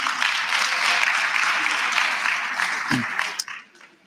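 A hall audience at a national student representative council induction claps in a dense, steady round for about three seconds, then the clapping thins and fades out with a brief voice near the end.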